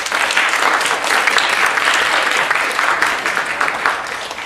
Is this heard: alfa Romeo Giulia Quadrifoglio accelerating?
no